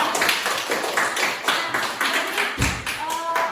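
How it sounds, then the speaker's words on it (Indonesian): A small group claps for a presenting team, with fairly distinct, uneven claps close by and a dull thump partway through. "tepuk tangan dulu untuk kelompok 2"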